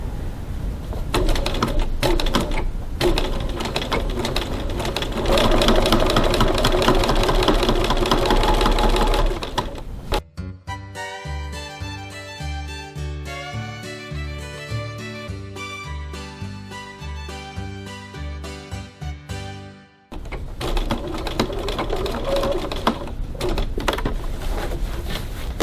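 A domestic sewing machine understitches a fabric bag at a long topstitch length, a fast steady mechanical whir running continuously for about ten seconds, bracketed by louder background noise before and after.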